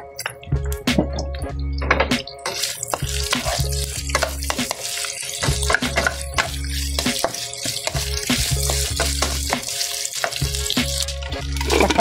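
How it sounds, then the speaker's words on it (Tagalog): Pork frying in oil in a pan, loud and close with constant sizzling and sharp popping spatters, punctuated by frequent clinks and thunks of stirring. "madungog ang yan palansik"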